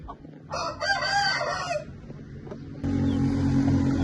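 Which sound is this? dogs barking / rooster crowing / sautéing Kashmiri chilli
rooster crowing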